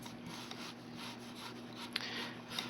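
Wax being brushed and rubbed onto a bumpy, textured cement surface, giving a steady soft scrubbing hiss with a few faint taps, close and alone.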